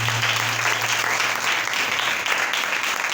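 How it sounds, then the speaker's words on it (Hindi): Sustained applause from a church congregation, a dense steady clatter of many hands clapping together throughout, fairly close and loud with no talk over it. "जोरदार तालियां खुदा उनके लिए बजाएं"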